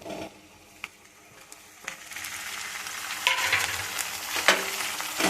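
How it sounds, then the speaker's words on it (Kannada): Tomato fries for a chicken curry while a spoon stirs it in the pan, with a soft sizzle broken by scattered scraping clicks that thicken and grow louder toward the end; no one speaks. "ಹಸಿ ವಾಸನೆ ಹೋಗೋವರೆಗೂ ಸ್ವಲ್ಪ ರೋಸ್ಟ್ ಮಾಡ್ಕೊಳ್ಳೋಣ"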